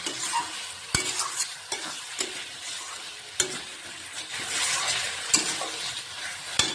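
Curry being stirred and fried in a pan, a steady sizzle broken by repeated sharp scrapes and knocks of the spoon against the pan, close and fairly loud with no talking.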